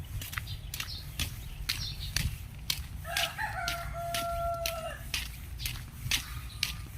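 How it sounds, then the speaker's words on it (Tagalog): Chickens and a rooster on a pig farm, with one long cock-a-doodle-doo crow in the middle, surrounded by repeated sharp clucks and pecking sounds, moderately near and not loud. "Ito naman mga manok."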